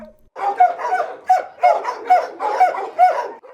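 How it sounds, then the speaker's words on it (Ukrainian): Several dogs bark over and over in a municipal animal shelter in Vinnytsia, Ukraine, their close, steady barks overlapping in a busy chorus with no pauses. "Хвостаті гавкають не для того, щоб відлякати, а щоб привернути увагу."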